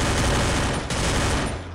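Rapid automatic gunfire rattles in the Free Fire battle royale game, a dense, loud burst of overlapping shots with a brief dip partway through before the firing continues and trails off.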